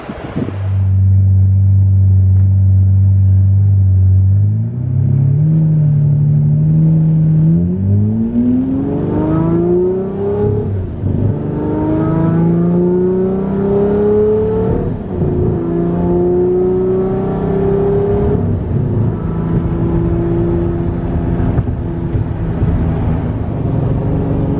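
A car on a test drive, its engine revving up through the gears with rising pitch and steady rumble, loud and close for the whole stretch, no talking.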